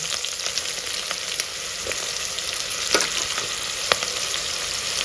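Sliced onions, green chillies and whole spices such as cardamom frying in hot oil for a paneer masala ghee pulao, a loud continuous hissing sizzle with occasional sharp crackles and spits.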